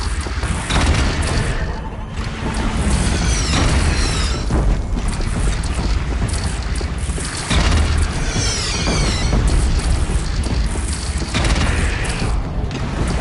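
Heavy cannon fire in the video game Horizon Zero Dawn during a battle defending Meridian, with repeated loud booms and blasts, crashes and mechanical clatter rolling through a sustained chaotic fight scene.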